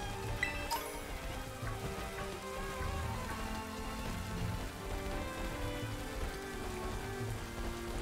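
Steady rain weather in a Pokemon video game hisses continuously, a dense even patter of drops with no breaks, moderately loud and unaccompanied by talk.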